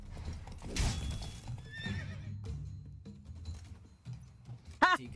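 A horse in The Witcher 3: Blood and Wine whinnies in bursts amid hoof clip-clops and game sounds, with a sharp neigh near the end; someone talks faintly at times.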